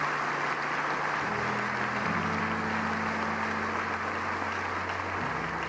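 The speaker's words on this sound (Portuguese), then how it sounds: "E dar um aplauso bem forte ao" Church congregation applauding during a worship service, a steady wash of clapping throughout with a sustained organ or keyboard chord underneath.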